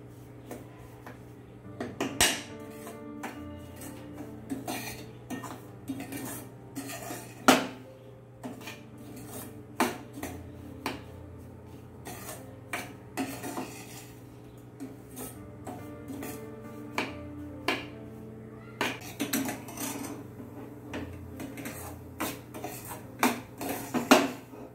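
Semolina (rava) is roasted for shira in a pan, with a spoon scraping and knocking against the metal in irregular clinks and taps over a low steady hum.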